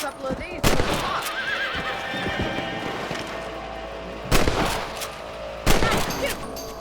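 Rifle shots ring out in Red Dead Redemption, a few sharp loud cracks spread across the stretch, with a horse whinnying and hooves clip-clopping in the background and a voice speaking briefly.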